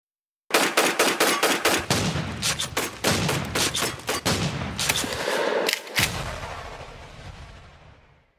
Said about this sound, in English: A gunshot on Miodova.